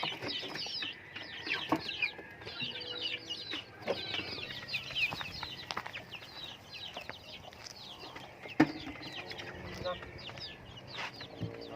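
Native chickens clucking in a busy chorus, overlapping calls and short squawks from several birds nearby, with occasional louder outbursts.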